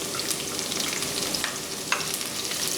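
Green onions stirred into a pan of tomato chutney, making a soft continuous fry and sizzle with scraping stir sounds and a few light clicks, heard up close with no talk.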